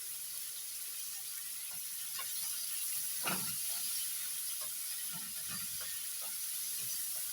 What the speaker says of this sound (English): So we're going to fry our onion until it's translucent or soft.